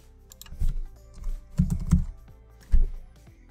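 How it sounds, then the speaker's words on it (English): A domain name is typed on a computer keyboard in short clusters of close, crisp key clicks, with brief pauses between bursts. "click this button here and just type in the domain name in the box"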